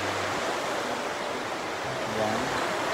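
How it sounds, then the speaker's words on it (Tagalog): A river stream flowing beneath a bridge, a dense steady rushing roar heard close by, with faint low tonal sounds mixed into the wash and no clear talking. "Sa may sapa, sa may ilog, sa may river, ganon."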